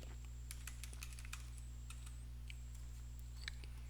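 Keys clatter on a computer keyboard as customer details are typed in, a quiet run of irregular taps and short bursts over a steady low electrical hum, with no voices.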